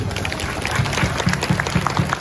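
Applause from those present at a village anniversary religious gathering, following a martial arts performance set to Javanese music, sounding as steady rhythmic clapping over a music backdrop in a reverberant space.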